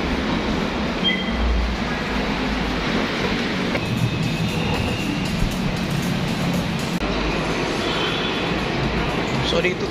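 An LRT light rail train rumbles at Balintawak Station in Manila, a steady loud rolling roar with rail noise and station ambience, while someone talks over it.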